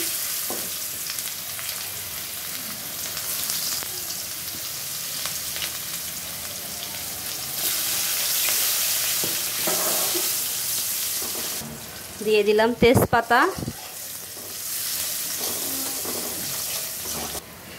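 Cumin seeds and chopped onion sizzle in hot oil in a pan for an egg curry, a close, steady crackle that briefly drops out while a voice speaks over it near the end.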